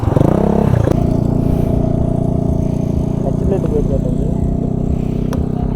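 A motorcycle engine holds a loud, steady idle-to-mid throttle drone during riding skills practice on a basic circle, close by and continuous, with a brief rev surge at the start.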